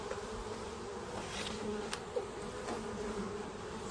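Honey bees buzz steadily around an open hive on a hot day during an inspection of a defensive colony, a dense close swarm hum running throughout with a few louder passes of individual bees.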